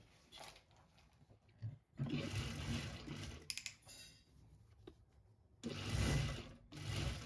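A sewing machine stitches a piece onto blouse lining fabric in a few quiet bursts of rapid whirring, separated by short pauses.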